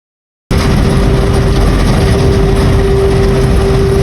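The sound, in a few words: bus engine roaring, Gulistan to Gazipur bus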